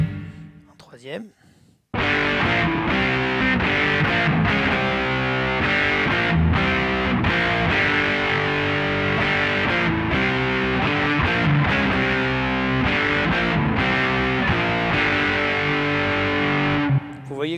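A distorted lead electric guitar tone from an ADA MP2 tube preamp, thick and aggressive, with continuous loud phrasing and sustained notes for roughly fifteen seconds after a short quiet lead-in.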